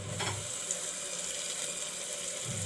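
Water poured into a pot of mutton curry masala with turmeric, green chili and ginger garlic paste, a steady close splashing rush that fills the whole moment.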